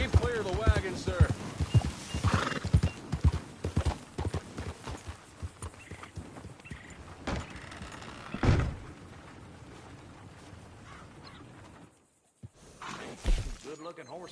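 Horse hooves clip-clop in the Red Dead Redemption II video game, a steady trotting beat near at hand under voices and background game sounds, fading briefly to silence before picking up again.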